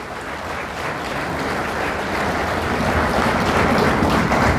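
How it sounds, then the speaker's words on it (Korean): A large audience claps in a thick, continuous wash that stays even and loud throughout, with no single claps standing out. "서로의 인연을 축하하면서 박수 한번 크게 치십시오."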